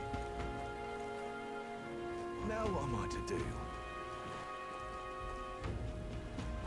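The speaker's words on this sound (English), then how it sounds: "The rain remains as unpleasant and oppressive as ever" Steady rain falls in the video game Metaphor: ReFantazio, a soft continuous patter under tonal game music, while a voice speaks briefly in the middle.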